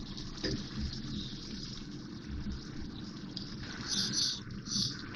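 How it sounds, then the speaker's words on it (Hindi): Water gushes steadily into a pot of chicken shorba curry, a continuous soft pouring hiss at low level with faint bubbling toward the end. "अब इसमें शोरबे के लिए मैं पानी डालूंगी।"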